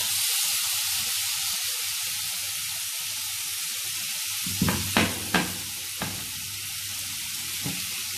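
Mango for chutney sizzles steadily in a hot pan, a constant loud frying hiss with a few sharp clatters and scrapes of stirring partway through, no voices.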